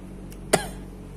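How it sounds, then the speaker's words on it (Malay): A single short, sharp cough, close and fairly loud against a quiet background, with a fainter breathy sound just before it; no talking. "batuk tertelan angin."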